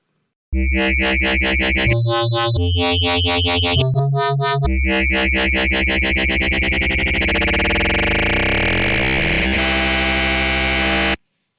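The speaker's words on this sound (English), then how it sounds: "The following bass sound in Ableton's operator is a 4-operator, or oscillator sound using nothing but sine waves" A buzzy, metallic FM synth bass built from four sine-wave operators plays a choppy rhythmic phrase, then holds a long sustained tone that sweeps and morphs in timbre before cutting off.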